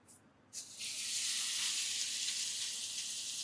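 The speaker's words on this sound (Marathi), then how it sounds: "चला, आपला पॅन इथे गरम झाला आहे आणि आपण ही एक फिश टाकूया यामध्ये" A mackerel coated in semolina, rice flour, turmeric, salt and spice masala drops into a hot pan and bursts into loud, steady sizzling frying that holds continuously after a quiet start.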